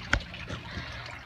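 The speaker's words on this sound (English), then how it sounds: "Starts water flowing into my tank. And all right, so water is flowing in here." Water runs steadily into an aquaponics tank, a soft continuous trickle and gurgle heard close up, with no voices.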